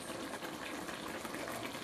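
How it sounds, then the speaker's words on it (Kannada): Chicken gravy boiling in a pot, a steady close bubbling and simmering hiss that runs continuously without pause, with no voices over it. "ಈ ಥರ ಕುದೀತಾ ಇದೆ ನೋಡಿ, ಚೆನ್ನಾಗಿ ಬೆಂದಿದೆ ನೋಡಿ"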